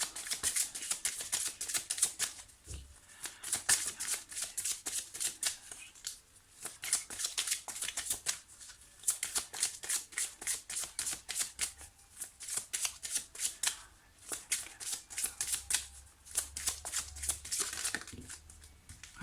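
Oracle cards being shuffled repeatedly in bursts of crisp riffling and flicking, close and fairly loud, with brief pauses between rounds and no talking.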